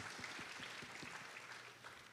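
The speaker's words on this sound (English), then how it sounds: "Next off, yes, a round of applause" An orientation audience of parents and supporters claps, a faint, thin patter of hands with a few distinct nearby claps standing out at the start.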